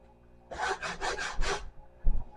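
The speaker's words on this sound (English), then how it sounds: "give this a quick go over with the sandpaper" Sandpaper rubs over a particle board table in five quick back-and-forth strokes, a close raspy scratching, followed by a short pause and one more brief scrape.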